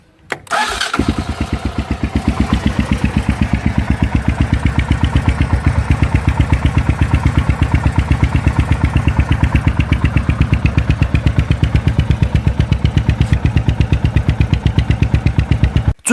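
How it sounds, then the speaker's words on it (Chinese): A huge single-cylinder motorcycle engine, 105 mm bore and 90 mm stroke, fires up and settles into a loud, steady, rapid thumping idle, heard close and alone for the rest of the span. "接下来大家听一下发动机声浪。"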